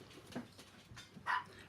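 A small dog at home gives a few faint, short yips and a whimper indoors, sporadic and quiet against low room noise.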